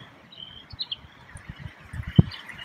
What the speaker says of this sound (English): You can hear the peepers, the spring frogs chirping.